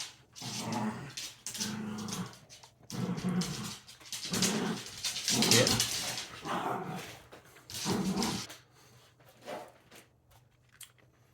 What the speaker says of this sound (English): My dog starts playing in the background.